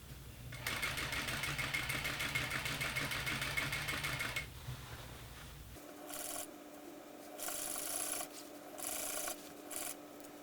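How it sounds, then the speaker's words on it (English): A sewing machine stitches a fabric tubing channel onto a jumpsuit for a Star Trek radiation-suit costume, whirring steadily at close range, then running in shorter, separate bursts after a pause. "Sew the channel to the jumpsuit half an inch above the lower edge"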